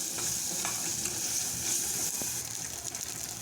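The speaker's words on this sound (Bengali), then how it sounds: "এখন সবগুলো মশলা তেলের মধ্যে কষায় নেব।" Spices with chili powder and salt sizzle steadily in hot oil while being stirred, a continuous close frying hiss with faint scraping of the spoon throughout.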